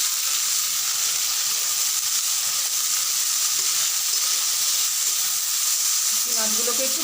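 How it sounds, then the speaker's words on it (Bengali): Dried shrimp fry in a pan with black cumin, a steady, loud hissing sizzle throughout with a faint clatter of stirring near the end and no talk. "এখন আমি চিংড়ি শুটকিগুলোকে দিয়ে দিচ্ছি।"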